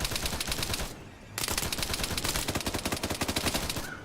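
Rapid machine gun fire from a mounted MG in Arma 3, loud and close in continuous bursts with a brief pause near the one-second mark before the rattling resumes.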